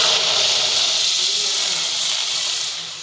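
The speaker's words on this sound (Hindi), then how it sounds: "तो अब हम इसमें डालेंगे दूध।" Milk poured into a hot pan for a sweet dessert, giving a steady loud steam hiss that holds for about three seconds, then eases off slightly at the end, with no talk over it.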